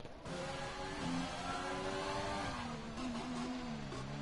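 A race car in a PS4 racing game brakes hard into the pits, its engine droning steadily and sliding down in pitch as it slows, moderately loud with no talk.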